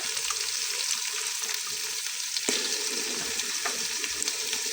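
Steady, dense sizzling of ginger-garlic and onion paste frying in oil, continuous throughout with a few faint clicks of stirring.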